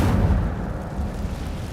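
A fire spell cast in Hogwarts Legacy, heard as a loud, steady low roar of flame or blast that fills the moment from start to finish with no talking.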